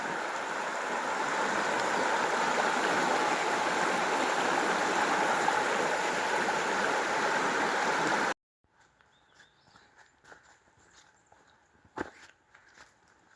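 A stream at a trail crossing on the South Mills River Trail rushes steadily in a close, continuous flowing hiss for several seconds, then gives way to quieter rustling and footsteps.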